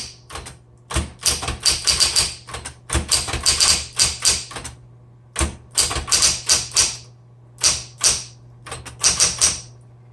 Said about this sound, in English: let's go ahead and turn this on, and we'll do some typing